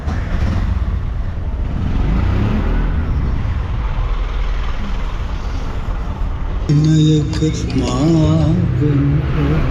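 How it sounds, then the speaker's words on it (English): An auto rickshaw engine rumbles steadily amid busy street traffic near Pettah Market in Colombo, loud and close for most of the stretch, and then voices and other street sounds rise over it toward the end. "Look at that nice tuk-tuk."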